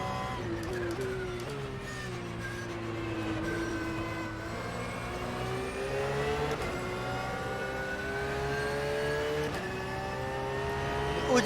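An Audi Kyalami race car in a racing video game drones steadily throughout, its engine pitch gliding up and down through gear changes at a constant, fairly close level.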